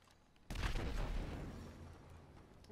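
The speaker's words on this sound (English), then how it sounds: "Explosions." A sudden loud blast hits in GTA Online, then a rumbling roar that slowly fades, with no talking.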